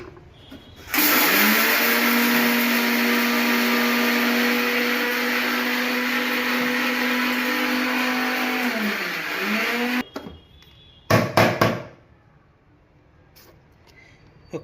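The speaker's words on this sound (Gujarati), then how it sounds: "2 ચમચ ખાંડ નાખી પાછું પીસી નાખીએ." A mixer grinder whirs loudly and steadily for about nine seconds as it grinds sugar with cardamom and nutmeg for churma ladoo, then winds down and stops, followed by a few brief knocks of the jar.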